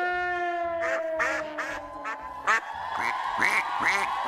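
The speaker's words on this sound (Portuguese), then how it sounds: "Que pato mal criado." A duck quacks repeatedly in a quick, nasal series in a TV studio, close and clear, over a steady tonal background hum.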